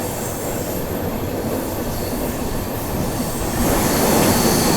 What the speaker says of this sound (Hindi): यहाँ पर हम लोग ओवरटेक कर रहे हैं देवागिरी एक्सप्रेस